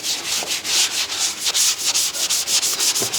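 A brush scrubs back and forth between the spokes of a dark anthracite car wheel during a deep post-winter clean, with loud, rhythmic rubbing strokes repeating roughly every quarter second and no talk.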